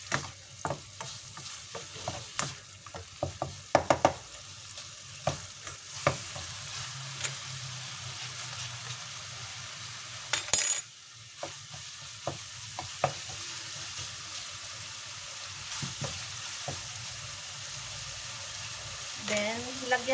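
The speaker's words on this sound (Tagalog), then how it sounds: "lulutuin muna natin yung minced chicken guys" Minced chicken frying in a pan, stirred now and then, with a steady close sizzle broken by scraping and clinking of the utensil against the pan and occasional brief voice sounds.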